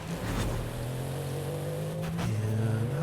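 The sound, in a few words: BMW X5 engine driving in a racing video game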